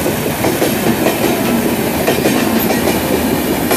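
A train passes near a flyover with a loud, continuous rumble and clickety-clack of wheels on rails, close by, with no talking.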